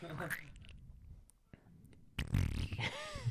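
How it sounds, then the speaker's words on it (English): Sound effect from Star Wars built from farts: wet, sputtering bursts and gurgles, then a louder, crinkly, rasping stretch near the end, heard close with people talking around it. "It's just farts."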